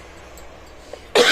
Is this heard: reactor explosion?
no